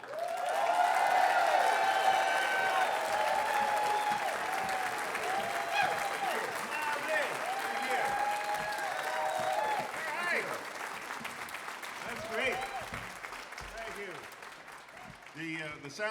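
An audience applauds and cheers the Kingston Trio, starting as a dense, loud wall of clapping with whoops and voices in the crowd, then thinning out toward the end.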